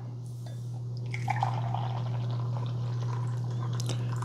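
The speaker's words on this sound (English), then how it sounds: "So let's see how the carafe pours." Coffee pours from the carafe of a Cuisinart DCC-450BK 4-cup coffee maker, a soft, close liquid trickle and splash over a steady low electrical hum, with no voices.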